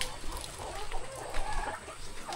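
A Rhode Island chicken clucks in soft, irregular bursts against a noisy outdoor backdrop, faint and a little distant, with no talk.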